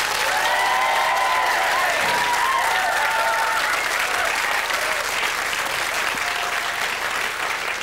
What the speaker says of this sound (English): So for Nicola, as she leaves us, a big round of applause